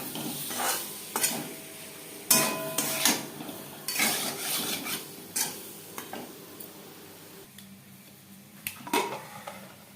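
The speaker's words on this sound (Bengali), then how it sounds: "আলু ভেজে নেব।" Boiled potatoes frying in a pan for a traditional mutton curry, with a steady sizzle under repeated scrapes and clinks of a utensil stirring against the pan, close and fairly loud.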